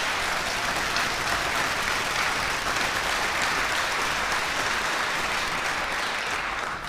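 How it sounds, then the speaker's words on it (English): A debate audience gives a sustained, even round of applause for the candidates at a Republican gubernatorial primary event, a broad wash of clapping from a crowd at moderate distance. "Go ahead and give them a round of applause for appearing."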